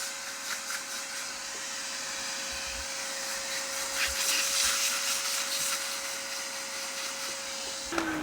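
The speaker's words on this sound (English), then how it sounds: "it's better to first clean off the vacuum cleaner." A vacuum cleaner runs steadily while cleaning wooden knife handle scales: a continuous motor whine with a constant pitch, accompanied by faint rubbing and tapping sounds as the nozzle moves, before it shuts off abruptly at the end.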